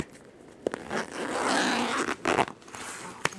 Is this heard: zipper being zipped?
yes